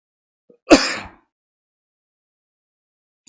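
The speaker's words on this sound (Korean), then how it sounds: "기침이 자꾸 나오려고 그래서" One short, sharp cough close by, followed by silence.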